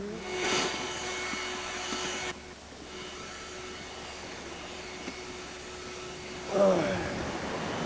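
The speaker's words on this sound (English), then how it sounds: "I'm vacuuming." A steady, droning motor hum runs throughout at moderate level, with a louder burst near the start and a bump in noise toward the end.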